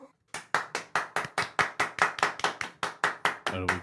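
A single person claps about sixteen times in a steady, close, crisp rhythm, each clap distinct, ending with a brief voice.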